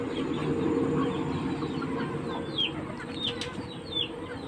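Many chickens in a yard in Tacloban, a steady mix of clucks and short squawks with some wing flapping, moderately near over constant background noise.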